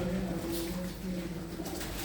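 Pigeons kept at home coo in low, repeated throaty notes against a steady background hiss, close by and without talk.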